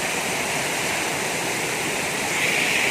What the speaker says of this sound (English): let me just go and show you the fullness of the waterfall